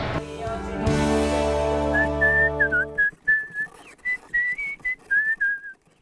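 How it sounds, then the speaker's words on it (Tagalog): A melodic whistled signal of several rising and falling notes, clear and fairly close, following a sustained musical chord that cuts off. "kapag narinig na ang sipol na ito"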